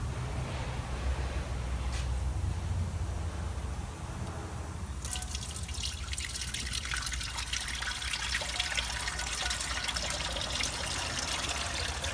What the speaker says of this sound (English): I'll leave that to drain for 10 minutes.